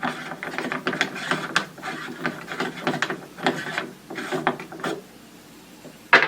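Threaded retaining ring being unscrewed from the body of a telescope field flattener, giving a run of small ratcheting, grinding clicks and scrapes close up, in irregular bursts with a brief pause and a final sharp click.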